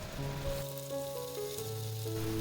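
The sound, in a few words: frying papaya flowers in cooked spice paste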